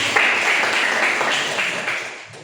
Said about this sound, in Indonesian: Oke, tepuk tangan untuk video.